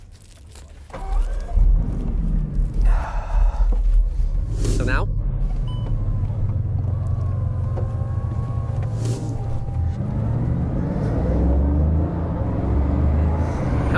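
Engine of a record-breaking Bugatti car rumbles steadily as it sets off, a low continuous drone under people talking inside.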